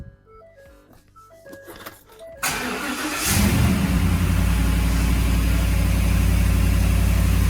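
A Ford Raptor's 6.2 liter V8 cranks briefly, then fires and roars into a loud, steady idle, started from a portable jump starter with no starting battery connected.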